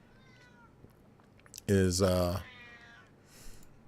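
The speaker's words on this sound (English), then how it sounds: "if you have a cat who meows constantly in the background" A house cat lets out one loud, drawn-out meow close by, with a faint earlier mew and a short trailing cry afterward, as a voice speaks briefly nearby.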